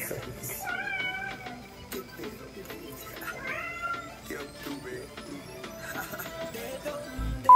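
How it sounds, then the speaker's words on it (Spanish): A cat meows repeatedly indoors, drawn-out tonal cries in two clear bouts with quieter mews between, close and fairly loud over faint room noise. "miau, miau, puro miau, tú!"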